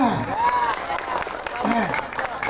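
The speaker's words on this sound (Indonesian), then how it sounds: "Tepuk tangan dulu semuanya." An audience claps at a comedy stage show in Banjarmasin, South Kalimantan, a steady wash of applause under a performer's voice.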